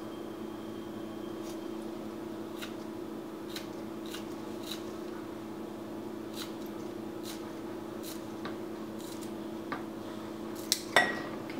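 Kitchen shears snipping green onions into a bowl, a quiet series of crisp, evenly spaced cuts over a low room hum, ending with a couple of louder clicks.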